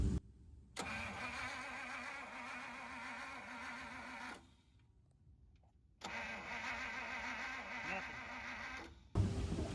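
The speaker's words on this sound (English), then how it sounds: "turn the ignition on and turn it over" The straight-8 engine of an abandoned 1950 Pontiac cranks over in two rhythmic bursts separated by a quiet pause, a steady chugging starter grind that does not catch.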